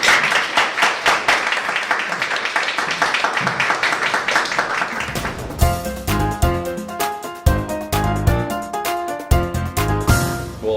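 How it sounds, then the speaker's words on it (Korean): Dense clapping from a lecture audience fills the first few seconds, then gives way to loud music with strong beats and sustained tones. "큰 박수로 맞아주세요"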